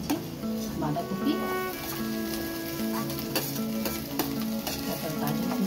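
Cabbage for a vegetable stuffing frying and being stirred in a pan, a steady sizzle with scraping stir strokes, while a voice talks over it now and then.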